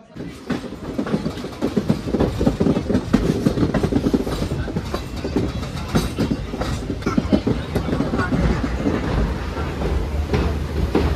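A train rumbles along the tracks on the Sakleshpur to Subramanya route with a rhythmic clickety-clack of wheels, loud and continuous from inside or close by.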